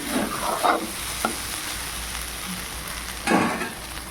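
Muri ghonto being stirred and fried in a pan, with a steady low sizzle and a few scraping stirs near the start and again near the end.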